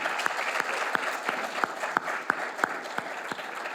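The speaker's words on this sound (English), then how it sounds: "Let's give him a round of applause" An audience applauds after being asked to give a round of applause, steady clapping at moderate distance with distinct sharper claps punctuating a continuous wash, alone without talk.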